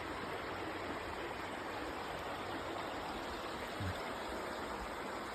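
Leslie Run, a creek in East Palestine, Ohio, rushes along in a steady, close, broadband wash of flowing water with no voices over it.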